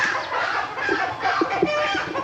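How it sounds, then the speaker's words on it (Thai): Several chickens cluck close by, a busy overlapping chorus of short clucks and squawks that continues throughout. "โอ้ยเสียงไก่"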